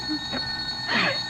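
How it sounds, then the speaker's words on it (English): Telephone ringing in a 1948 radio detective drama, a short ring followed by a louder trilling burst in a quiet room, with no talk. "That's the phone, Slim."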